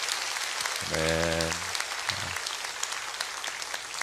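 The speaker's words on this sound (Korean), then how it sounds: "다시 한번 감사와 영광의 박수 올려드립니다" A congregation claps at an early-morning Thanksgiving prayer service in a church, a soft, steady patter of applause running throughout while someone briefly speaks over it.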